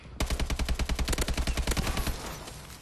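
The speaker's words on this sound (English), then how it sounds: "Somebody's shooting." Rapid automatic gunfire in the Call of Duty video game, a loud, close, steady burst of evenly spaced shots lasting about two seconds before trailing off into reverberation.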